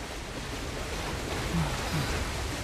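Waves wash and surge steadily in Uncharted: The Lost Legacy, a broad, continuous roar of surf with wind-like hiss and a couple of brief low tones partway through.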